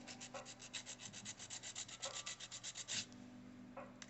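An acrylic nail on the pinky being hand filed makes a close, quiet rasping that comes as quick repeated rubbing strokes, breaks off briefly around the three-second mark and then returns.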